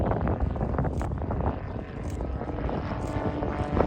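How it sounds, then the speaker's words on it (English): Royal Air Force propeller aircraft flying an aerobatic loop at an air show, its engine drone loud and steady throughout, a continuous rumble with slight swells as it pulls through the manoeuvre. "We're now in the high energy section of the display with a derry turn, quarter clover, and now the loop"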